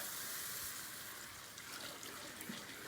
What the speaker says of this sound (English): now we're gonna slowly add in our stock